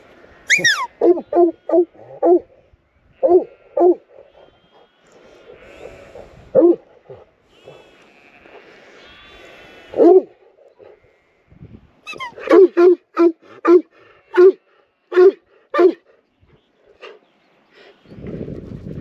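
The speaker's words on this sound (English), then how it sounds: "Dogs are down here somewhere." Dogs bark in quick, loud, close bursts of several yaps, then go quiet with faint whimpers before a second, longer run of rhythmic barking, and a brief voice is heard at the close.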